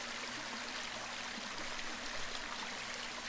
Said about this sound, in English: You can see it goes over this creek here.